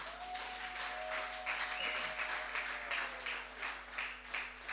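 An audience claps together in a steady, sustained round of applause at a spoken address, moderately loud, with a faint constant hum beneath.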